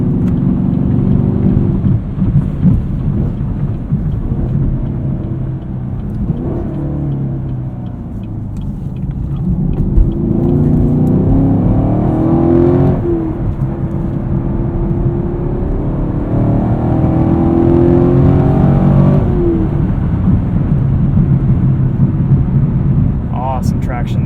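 A 2018 Chevrolet Camaro 2SS with a six-speed manual accelerates onto an entrance ramp, its engine rumbling loud and steady throughout, with harmonic whir rising and falling as it pulls through gears.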